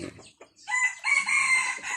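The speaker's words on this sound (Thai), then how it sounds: "อันนี้คือพ่อพันธุ์แม่พันธุ์ไก่แจ้ไก่สวยงามนะครับ" Bantam chickens, a breeding rooster and hen on a farm, giving a short close crow-like call after a few brief clucks, fairly quiet and alone.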